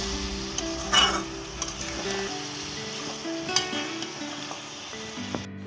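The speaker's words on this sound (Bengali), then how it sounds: "এই পেঁয়াজগুলো দিয়ে চিকেনটাকে আবার কিছুক্ষণ সময় ফ্রাই করে নেব" Chicken pieces and onions frying together in a pan, a continuous sizzle with repeated spatula scrapes and stirs, close by, with a few brief louder clatters.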